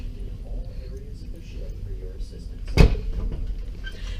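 A closet door on a Carnival Horizon cruise ship cabin opens with a single sharp knock and slide, heard close by, while someone talks before and after it.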